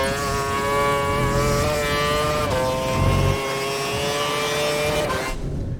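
A Formula 1 race car engine in the video game F1 2012 at Spa-Francorchamps screams steadily at high revs, loud and continuous, with a brief dip in pitch as the gear changes midway.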